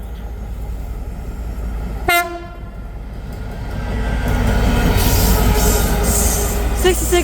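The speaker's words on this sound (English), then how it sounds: "passing through now is a DB Cargo UK Class 66 running light from Crewe TMD to Wembley Loco sidings" A DB Cargo UK Class 66 diesel locomotive running light passes through Berkhamsted station, a short horn blast sounding before its loud engine rumble swells and holds close by.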